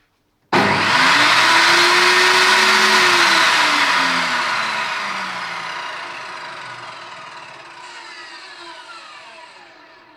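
Einhell TC-TS 2025/1 UA table saw with its stock blade, which has noticeable runout, starts abruptly and spins up to a loud, steady whine, then slowly winds down and fades over the following seconds with no talking.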